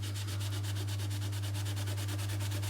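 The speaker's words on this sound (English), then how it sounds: "that's not wiping off with the sponge" A sponge scrubs oven door glass in quick, even back-and-forth strokes, a close, rhythmic rubbing swish over a constant low electrical hum, with no talking.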